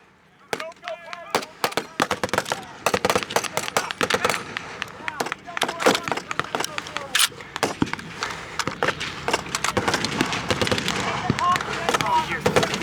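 Rapid rifle shots from an M1 Garand at a WW2 reenactment crack out across an open field, repeated sharp bangs near and far, with shouting voices mixed in throughout.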